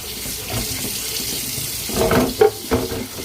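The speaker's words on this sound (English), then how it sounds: "Leave the water cold because you don't want to cook the meat obviously and heat it up. So you kind of give it a nice rinse." Cold water runs from a kitchen tap over raw beef being rinsed for goulash, a constant close hiss with a few louder splashes near the end.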